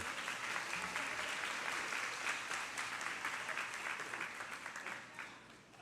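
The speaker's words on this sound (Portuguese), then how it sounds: "Vamos dar palma aqui para o Congresso da Escola Dominical" A congregation at a Sunday school congress claps steadily in a large hall, the applause holding level before easing slightly toward the end.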